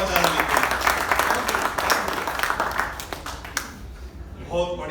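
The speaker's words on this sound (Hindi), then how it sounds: "जोरदार तालियां बजाओ पांचाल जी" An audience at a live laughter comedy show claps loudly and continuously, with sharp individual claps audible. Voices join toward the end as the applause fades.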